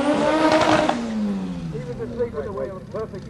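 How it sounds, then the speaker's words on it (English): A front-wheel-drive drag car at a Santa Pod Raceway event does a stout burnout, engine revving hard and pitch falling as tyres spin, followed by fainter engine noise beneath a voice. "Matthew Simonite with a good stout burnout"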